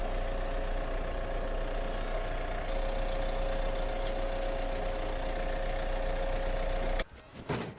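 A Frontier OS18 sawmill engine drones steadily at close range, a constant rumbling roar that cuts off abruptly near the end.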